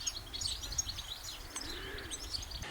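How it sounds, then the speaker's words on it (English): A house sparrow at Elmley Nature Reserve at sunset gives faint, repeated high chirps in quick irregular bursts over a quiet, low outdoor background. "get a little clip of this house sparrow"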